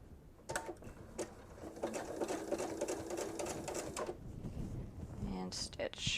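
A sewing machine runs steadily for about four seconds, stitching fabric for a strip-pieced kitchen set, with a brief mechanical clunk near the end.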